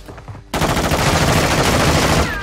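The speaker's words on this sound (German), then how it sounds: "Schießt ruhig dein ganzes Magazin auf mein Schild" Rapid automatic gunfire in Modern Warfare 2, a whole magazine emptied at a riot shield, bursting in loudly after a brief quiet moment and continuing as a dense, continuous rattle to the end.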